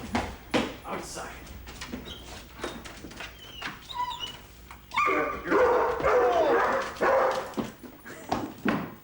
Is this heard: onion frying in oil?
no